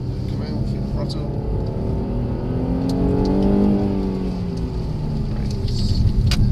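A Mercedes car engine pulling under throttle on a driving course, a steady rising drone with climbing tones that swells and holds, with an instructor talking over it.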